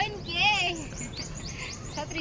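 Short, bright bird chirps and tweets ring out in a garden park beside Aji Dam in Rajkot, with several quick calls over about two seconds against soft outdoor background.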